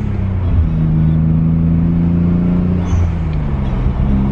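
A Nissan 300ZX engine with an HKS exhaust rumbles low and steady with a deep exhaust note, holding a constant hum with slight rises in revs.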